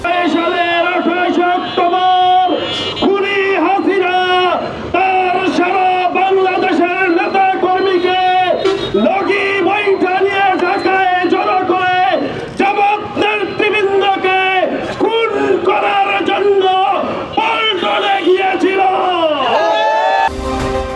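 A crowd at a street rally of Jamaat activists in Birganj, Bangladesh, chants slogans loudly and rhythmically, many voices together for the whole stretch.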